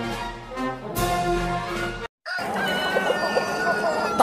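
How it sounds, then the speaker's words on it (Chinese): Free-range roosters from a mountain village, fed on crushed corn, crow loudly and cluck close by. Several overlapping calls come in two bursts with a brief gap between them. "大山里的土公鸡啊，吃的都是那种玉米啊"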